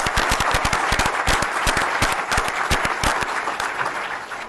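An audience claps steadily for Montgomery County Executive Matthew Ossenfort at Governor Cuomo's event with local elected officials, dense sharp handclaps filling the room without a break, loud and close.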